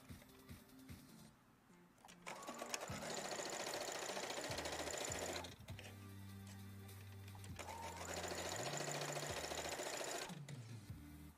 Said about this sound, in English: So this would be the second pass of sewing.